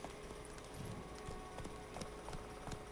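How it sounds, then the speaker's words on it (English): Horse hooves clip-clop in a video game, a faint, steady run of evenly spaced hoof beats over a low background hiss. "Luckily, Churl can always count on his horse, Roach, to help him in his travels."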